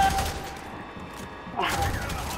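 Gunfire from the first-person shooter FEAR 3, dense rapid bursts of shots rolling continuously and loudly under a thick game soundscape, with a fresh burst near the end.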